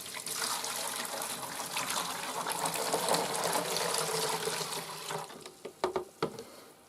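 Water pours steadily into the plastic tank of a Vax Multivax vacuum, a close, continuous splashing gush that tapers off into a few trickles and drips.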